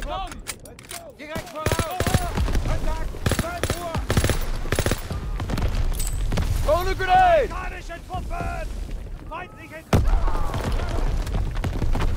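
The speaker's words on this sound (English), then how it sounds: "Artillery's killing us" Artillery shells burst on a World War II beach landing in Call of Duty WWII, with repeated booms and rattling machine-gun fire under shouted voices, loud and chaotic throughout.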